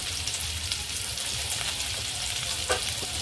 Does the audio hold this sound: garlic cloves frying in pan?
yes